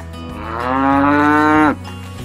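A single cow in a village farm setting lets out one loud, drawn-out moo lasting over a second before cutting off sharply, close and alone.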